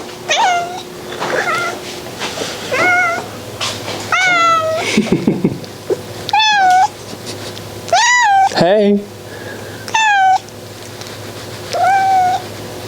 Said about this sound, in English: Shop cat reveal.